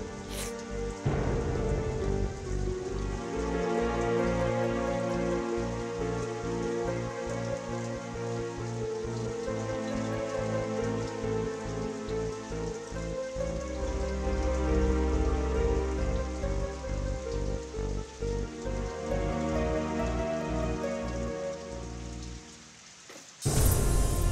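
Heavy rain pours steadily during a storm in a Bangla TV drama scene, a continuous wash of rainfall running under a music score throughout.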